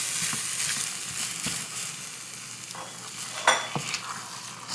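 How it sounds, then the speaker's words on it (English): Ground beef sizzles and fries steadily in a hot pan on the stove, with intermittent scraping and stirring strokes close by; no voices. "Now let's put it back in the stove, and we are going to put the ground beef."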